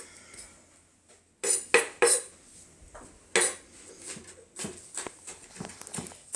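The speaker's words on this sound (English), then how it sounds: "So we'll cut this up. I'm using what they call a Santuco knife." Santoku knife chopping beets on a board for a beet salad, a series of sharp irregular knocks and clacks up close, some louder strikes in a cluster, with faint kitchen clatter between them.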